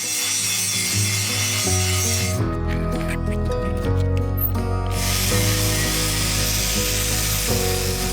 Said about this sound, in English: that's the first corner grinded and buffed out